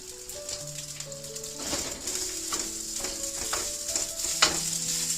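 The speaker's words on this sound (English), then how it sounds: "Now, we're going to take that rice, drop it right on in there" Rice drops into hot oil in a pot and sizzles steadily, with soft clinks and scraping of stirring over a continuous frying hiss, fairly close.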